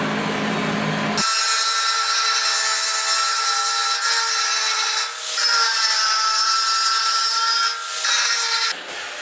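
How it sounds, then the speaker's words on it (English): Angle grinder working over welded-up pits on the steel box of a 1972 Ford F100 4x4 short-box truck, a steady loud high whine with a brief softer start and slight dips in pitch as pressure changes. "It's time to start grinding."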